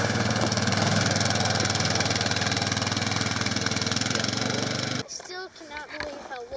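A tractor engine idles and runs with a steady, throbbing mechanical drone close by for about five seconds, then cuts out abruptly, leaving a quieter outdoor scene with faint scattered sounds on the ice.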